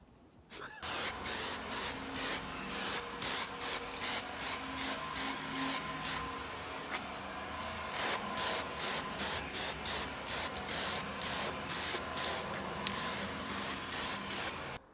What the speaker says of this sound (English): I'm going to do my second coat of Etch primer now